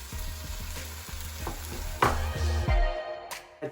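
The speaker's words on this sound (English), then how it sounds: "add 120 gram of chopped onion. Let's saute this nicely." Chopped onion sautéing in a pan for lamb curry, a close, steady hiss and sizzle with regular scraping stir strokes and a louder clatter near the end before it fades.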